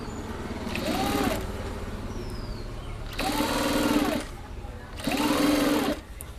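A sewing machine stitches a dress collar neck in three separate runs. Each loud, rapid mechanical whir lasts about a second and is broken by short pauses, with a low background hum throughout.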